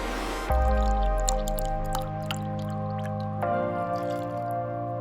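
Amul fresh milk poured into a container, a steady close liquid stream with a sudden start, shifting in pitch as the vessel fills, then settling to a softer trickle.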